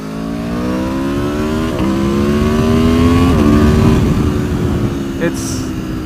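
An Aprilia Tuono 1100 Factory motorcycle engine pulls under partial throttle, its pitch rising steadily through each gear and dropping briefly at each shift, loud and close.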